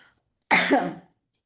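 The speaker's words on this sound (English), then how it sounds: "Give me a second, I have a little cough." A single short cough, close and clear, in an otherwise quiet moment.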